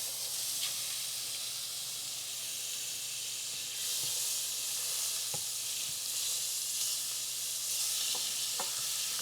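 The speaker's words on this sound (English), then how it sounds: "We're gonna go in with the other half a stick of margarine." Half a stick of margarine melting in a hot pan gives a steady, quiet hiss and sizzle, with a few faint clicks and pops scattered through it and no voices.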